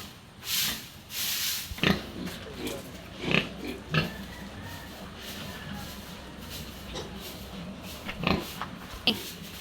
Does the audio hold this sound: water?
no